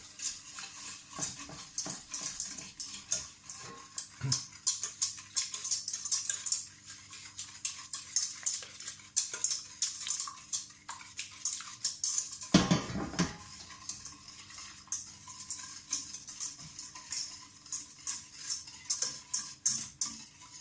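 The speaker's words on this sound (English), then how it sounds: "Just stirring it to let the sugar dissolve a bit." A spoon stirs ginger cake mixture in a bowl to dissolve sugar, with steady scraping and clinking of metal against the dish in repeated close strokes and a brief louder knock midway.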